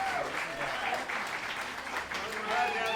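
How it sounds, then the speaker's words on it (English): Steady applause from an improv comedy audience fills the room, a dense wash of clapping that holds throughout with a few voices mixed in. "So go ahead and give her a round of applause"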